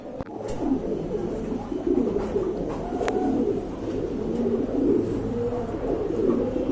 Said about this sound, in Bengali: দেখেন কত কিউট এক জোড়া কবুতর রাজগোল্লা কবুতর